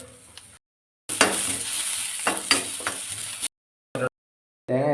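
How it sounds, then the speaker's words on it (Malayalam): Green chili, shallots and garlic sizzle as they are sautéed in a pan, a loud steady frying hiss with stirring scrapes, broken by brief silent gaps and a short burst near the end. "അതിലേക്ക് പച്ചമുളക് അരിഞ്ഞിടുകയാണ്. ചുവന്നുള്ളി അരിഞ്ഞിട്ട് കൊടുക്കുകയാണ്. വെളുത്തുള്ളിയൊക്കെ ചേർത്ത് കൊടുത്തിരിക്കുകയാണ്."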